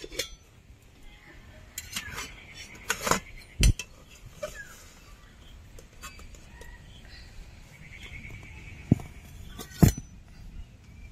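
A knife cutting a cooled, steamed semolina breakfast cake into pieces on a plate, giving a few sharp clinks and taps of metal against dishware separated by quiet scraping.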